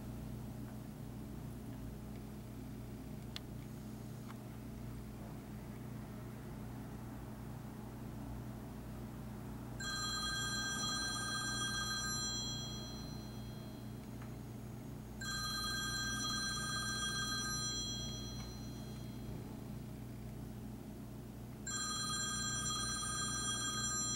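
A telephone rings in three separate bursts near hermit crabs during a hearing experiment, each ring a bright, warbling electronic trill lasting about two seconds over a low steady background hum.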